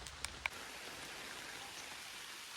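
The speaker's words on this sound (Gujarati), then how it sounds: "વરસાદ ચાલુ થઈ ગયો છે બપોરે એક વાગે" Steady rain falls on a farm in the Gir area of Gujarat during a monsoon-season afternoon, a dense even hiss with a couple of sharp drip clicks near the start and no voices.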